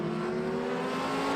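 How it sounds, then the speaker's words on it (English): Group A and Group C heritage touring cars at a race start at Winton, a dense, steady engine drone with a sustained tonal whine from several cars revving together, loud and continuous. "Race 1 for the Group A and Group C Heritage Touring Cars."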